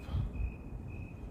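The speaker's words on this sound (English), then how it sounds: "As you hear the crickets" Crickets in a city hall courtyard in Pasadena give a thin, steady high chirring trill, faint and distant over a low outdoor rumble.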